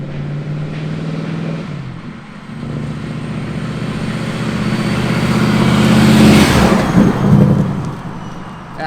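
Ford Mustang GT with a centrifugal supercharger and Camaro resonators fitted, the engine droning steadily and then swelling into a louder rev near the end, with no talking.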